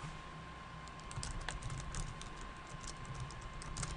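Light, quick typing on a computer keyboard, with a steady patter of soft key clicks, quiet and close, alone over a faint electrical hum.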